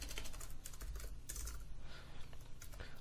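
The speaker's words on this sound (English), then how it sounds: "Come in and start typing in whatever we want." Typing on a computer keyboard, a quick run of light key clicks in uneven bursts, close and fairly quiet, with no one speaking.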